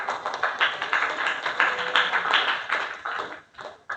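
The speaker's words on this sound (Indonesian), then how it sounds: "Beri aplaus untuk" Classroom applause for a presenting student group fills the room, continuous dense clapping from many hands, close and lively, fading near the end.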